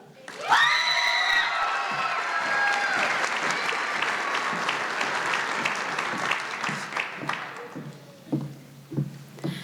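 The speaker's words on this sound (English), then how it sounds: "let's please give a round of applause to our selected class of 2023 speaker, Bailey Kukula" A graduation crowd at a 2023 young women's STEAM academy ceremony breaks into loud, sustained applause with cheers and whoops for the class of 2023 speaker, thinning into scattered claps near the end.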